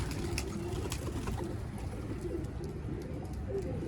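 Pigeons coo repeatedly in soft low bursts against a steady, noisy background, with a few faint higher chirps scattered throughout.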